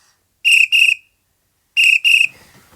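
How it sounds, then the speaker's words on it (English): A policeman's whistle in a children's Noddy story gives two pairs of shrill, piercing blasts, each pair made of two short bursts, separated by a brief silence with no voices. "The policeman saw what happened as well and blew his whistle."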